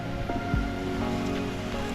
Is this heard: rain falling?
yes